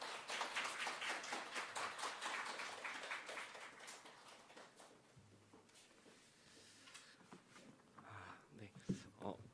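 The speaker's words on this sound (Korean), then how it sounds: "우리 박수로 우리 목사님 맞이하면 좋겠습니다" Scattered congregation clapping in a church to welcome a pastor before a farewell sermon, fairly quiet and fading out after a few seconds, followed by faint room noise and light movement.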